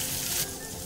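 Dried red chillies dropped into hot ghee tempering with asafoetida, giving a brief, bright sizzle that fades quickly after the first burst.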